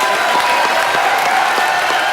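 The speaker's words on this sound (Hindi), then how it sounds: "मेरे भाई के लिए जोरदार तालियां।" Studio audience on a Hindi television comedy talk show bursts into loud, dense applause that holds steady and close throughout, with no talk over it.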